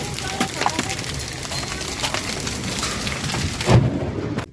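Steady heavy rain hisses across the whole spectrum, with a sharp loud crack near the end that fits nearby thunder, before the wash of rain drops away abruptly.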